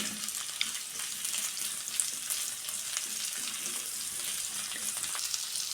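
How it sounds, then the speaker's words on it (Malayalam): Onions and garlic frying in a hot pan for chilli chicken, a steady bright sizzle with faint stirring scrapes running throughout, close and continuous with no talk. "അതിലേക്ക് നമുക്ക് ഉള്ളി ഇടാം."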